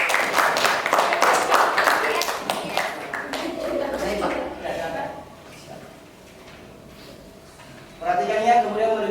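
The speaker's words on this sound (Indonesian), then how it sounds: "Berikan tepuk tangan untuk kelompok." A classroom briefly claps for a group of boys who presented their work. The quick burst fades within a couple of seconds, and then people talk.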